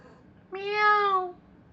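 A person imitates a cat's meow, giving one clear, drawn-out mew lasting under a second against a quiet background.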